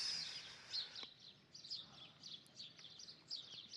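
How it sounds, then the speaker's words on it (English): Birds chirp repeatedly in soft, scattered bursts at the Temple of Isis in Egypt, faint and somewhat distant over a quiet outdoor background. "the chippering, joyful mornings of the birds. and the many doves cooing all around us in peace."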